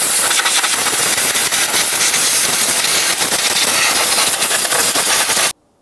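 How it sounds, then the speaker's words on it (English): Compressed air blown hard around the fuel injectors of a 2003-2007 Honda Accord, a loud, close, continuous hiss that cuts off abruptly at the end. "We'll just use some compressed air."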